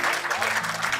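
Applause from an audience at a poetry recital, a brief dense burst of clapping at close range, with a voice faintly audible underneath.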